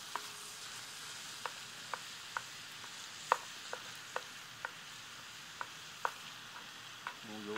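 Meat browns quietly in a 12-inch cast iron skillet, a soft steady sizzle broken by regular scraping taps of a utensil stirring it, close and fairly faint.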